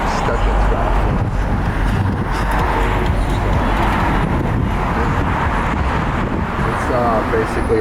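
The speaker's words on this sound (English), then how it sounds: "you're stuck in traffic like this" Road traffic on Highway 1 along the beach, a steady broadband roar of cars with heavy wind buffeting the microphone throughout; a voice talks over it.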